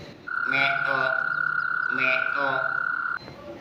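A frog croaks in two rhythmic bursts of pulsing, throaty calls, loud and close, over a steady high whine.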